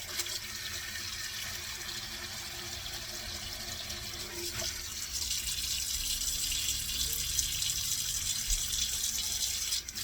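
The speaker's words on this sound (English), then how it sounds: "I like to wash these by immersing them into water, so I'll make sure all the bugs come out of it," Fresh basil is washed by immersing it in water, a steady close rushing of running water like a tap filling a sink, growing slightly louder partway through.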